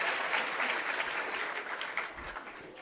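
Steady applause from a large audience at a Jain religious discourse by Acharya Vidyasagar in Jabalpur: dense, continuous clapping that stays fairly loud across the whole stretch, with no voices over it.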